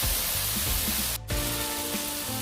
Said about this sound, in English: and I stir fry this